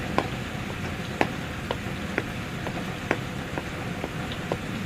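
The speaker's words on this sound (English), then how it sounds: "It's raining hard." Heavy rain falls steadily as a continuous broadband hiss, with scattered sharp drips and ticks standing out at irregular intervals; no voices.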